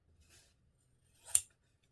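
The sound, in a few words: scissors for cutting doll clothes fabric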